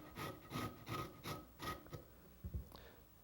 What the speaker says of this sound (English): all you have to do is grate it